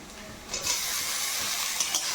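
Chopped tomatoes are stirred into frying onions in a pan, a brief close hiss and sizzle with a soft scrape of the spoon, fairly quiet and without talk.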